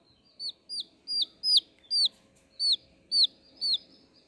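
Dyed chicks in pink, orange, green and yellow peep indoors, with about eight clear, high chirps in a regular series against quiet background hiss.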